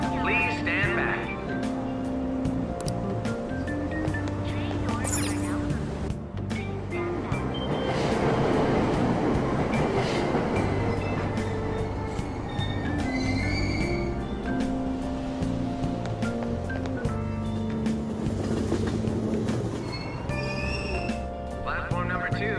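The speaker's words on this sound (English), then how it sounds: "Train doors are now closing. Please stand back." A subway train at a station in the video game Persona 5 Royal, with a steady mechanical rumble and a chime, while an automated announcer voice speaks over it.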